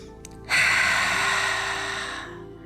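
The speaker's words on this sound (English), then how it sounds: "Listen into the sound of your breath, because we want to keep holding on to the Ujjayi breath" A single long Ujjayi breath during a yoga session: a steady, close, airy rushing sound that starts abruptly and slowly fades over about two seconds.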